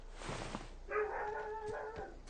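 A pet dog lets out a faint, drawn-out bark that stretches into a short howling whine, heard once at some distance over low room noise.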